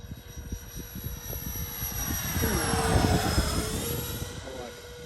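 Freewing AL-37 RC jet with twin 70mm electric ducted fans, a steady broadband whine that swells and sweeps as the model passes, then eases off, with people talking nearby.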